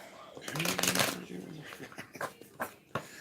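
A deck of playing cards is shuffled during a card reading, giving rapid riffling and flicking bursts close by, with people talking over it.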